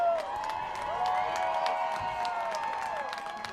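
A happy home crowd cheers at a high school homecoming football game between Rice Lake and Hudson, a steady wash of distant cheering and clapping with some tonal sound mixed in across the whole stretch.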